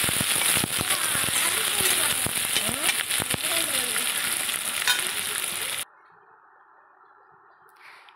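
Chopped onions hit hot oil already seasoned with cumin, bay leaf and whole garam masala, giving a loud, dense sizzle and crackle with stirring clatter for several seconds before cutting to near quiet.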